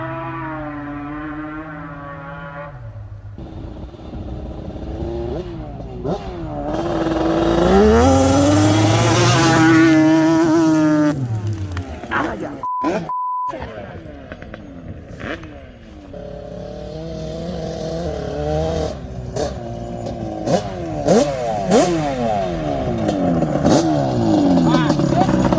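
A Yamaha Banshee quad launching, its two-stroke engine revving hard through rising and falling pitch sweeps, loud and close, while people talk before and after the run.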